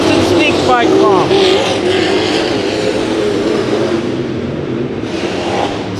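Race cars at Santa Maria Raceway accelerating hard out of turn four during heat races, their engines roaring loudly and sweeping up in pitch as they pass, with an announcer talking over the noise.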